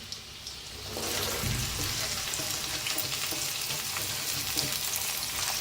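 Chopped okra hits hot oil with garlic in a pan, setting off a loud, steady close sizzle after a quieter first second, with faint stirring scrapes through it.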